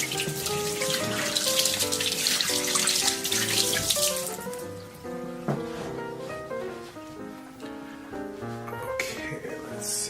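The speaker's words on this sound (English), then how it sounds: "wash your hands first if you touch any eggs" A kitchen tap runs as hands are washed, a bright hissing splash of water that is loud at first and then thins into softer trickling, with music playing underneath.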